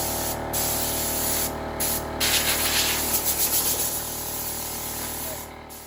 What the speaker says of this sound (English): I'm gonna pause though and use my compressed air and blow this off